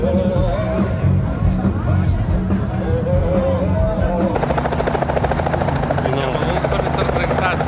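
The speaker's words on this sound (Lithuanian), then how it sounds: "Sraigtasparnis yra." A helicopter's rotor thumps loudly and continuously nearby, the rapid chopping beat steady throughout, with people talking under the engine roar.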